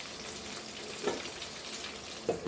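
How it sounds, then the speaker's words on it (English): Okra sautéing in a pan for a traditional Goan dish gives a steady, soft sizzle with a few brief louder stirring bursts, close and alone. "And then again we have to saute it."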